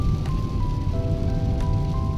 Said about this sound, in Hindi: कितनी देर तक ये बारिश रहती है